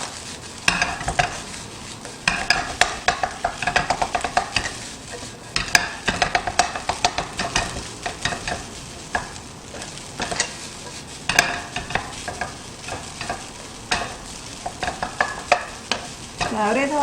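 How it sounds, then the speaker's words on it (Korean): Shrimp fried rice being stir-fried in a wok, with steady sizzling and frequent scraping, clattering stirs of a spatula against the metal, close and fairly loud with no voices throughout. "꼬들꼬들하게 볶아줄게요"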